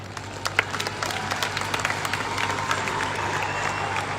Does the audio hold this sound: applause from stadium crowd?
yes